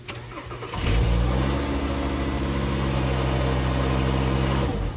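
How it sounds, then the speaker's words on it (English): A used car's engine cranks briefly and catches, then settles into a steady, loud idle with a low hum that holds for several seconds with no talk. "I'm finally gonna turn the car on."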